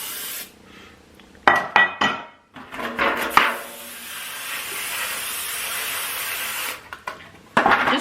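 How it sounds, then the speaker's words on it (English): Extra virgin olive oil cooking spray hisses onto baking pans in several short bursts and one longer sustained spray, close by, with light clatter of pans between the sprays. "I have my cooking spray, and I'm just using an extra virgin olive oil spray, and I'm gonna spray my pans"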